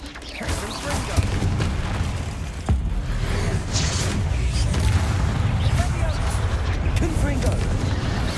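Fire spell explosions from Confringo cast during combat in Hogwarts Legacy, a dense run of booming blasts and crashes over rumbling battle noise, with game voices shouting throughout.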